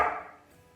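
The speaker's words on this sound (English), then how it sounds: "we're going to start by cutting the end off of this watermelon" A chef's knife cuts the end off a watermelon, a single crisp slicing crunch at the start that quickly fades into quiet.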